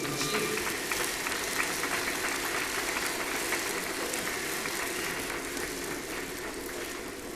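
A crowd applauds during an employee loyalty award ceremony at a company's 20th-anniversary celebration, a dense, steady wash of clapping that holds for several seconds at moderate volume with no voices over it.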